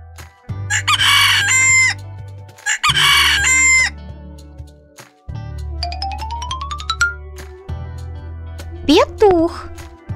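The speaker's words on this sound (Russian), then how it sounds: "Петух." A rooster crows twice in loud, close bursts, followed by a rising run of chime-like tones over a low steady background hum.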